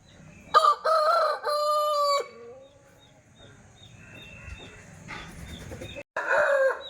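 A rooster offered for sale crows loudly nearby in a long, drawn-out call, then softer bird chirps follow before another short crow at the end.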